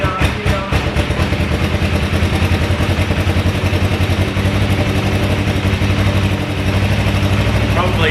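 An old $300 motorbike engine revs raggedly under a homemade throttle hack, a loud, close, steady clattering drone with uneven pulses, while a voice talks over it.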